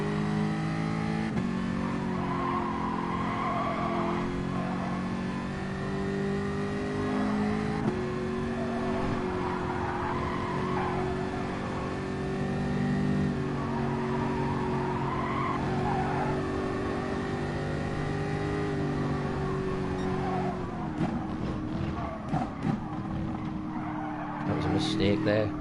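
A Jaguar race car engine drones steadily on a lap at Bathurst in a racing sim, sustained and close, with tire squeal, then choppy revving and downshift blips near the end, under a voice talking.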